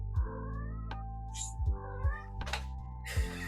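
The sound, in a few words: cat meowing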